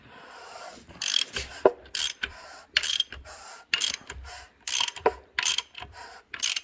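Rebuilt Toyota Corolla engine with new valves being turned over by hand, giving bursts of tight clicking and ratcheting, mechanical grinding in uneven, repeated pulls with short pauses, close and fairly quiet.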